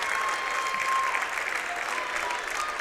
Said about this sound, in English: crowd gives him a hand